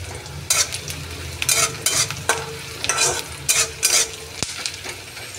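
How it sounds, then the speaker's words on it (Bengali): Onions frying in a pan, with a soft steady sizzle broken by repeated loud bursts of spatula stirring and scraping, close and without talk. "পেঁয়াজটা লাল লাল করে ভাজতে হবে।"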